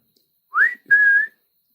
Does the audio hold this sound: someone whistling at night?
yes